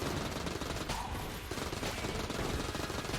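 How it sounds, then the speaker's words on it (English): Rapid 9mm gunshots in the video game Enter the Gungeon, a dense stream of fast overlapping shots and impacts forming a continuous rattling burst, fairly quiet and steady for several seconds. "Will we get more bloody 9mm shots?"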